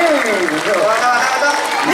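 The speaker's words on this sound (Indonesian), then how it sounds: "Boleh minta tepuk tangannya dulu untuk kita semua yang ada di sini." An audience at a Balinese bondres comedy performance claps in a brisk burst of applause, heard close and loud with a voice running over it.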